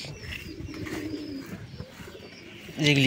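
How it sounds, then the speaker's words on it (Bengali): Pigeons give soft, low, repeated coos close by while birds shuffle about, and a louder, sharper bird call breaks in near the end. "এই যে কবুতর হাঁটতেছে"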